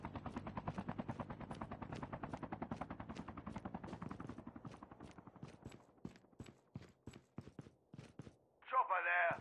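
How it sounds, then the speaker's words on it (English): A helicopter in a ranked battle royale match of the Call of Duty video game gives a rapid, steady rotor thumping that slowly thins out and fades. A short bright electronic tone follows at the very end. "Chopper there."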